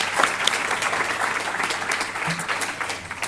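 Crowd at the 2025 New South Wales Australian of the Year Awards gives a big round of applause, continuous clapping with scattered sharp claps standing out, steady in level throughout.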